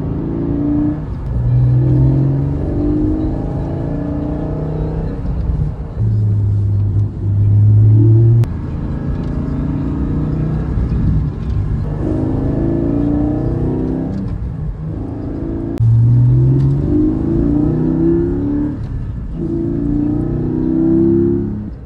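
A newly delivered sports car driven in cold weather, its engine loud and close, rising and falling through repeated gear pulls with bursts of revving and steady cruising between them, no talk.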